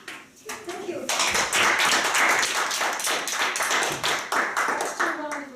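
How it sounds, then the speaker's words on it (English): A round of applause at a Toastmasters club meeting: a small room of people clapping briskly, starting after a quiet moment, with individual claps distinct and fairly close, then fading at the end. "Just a round of applause."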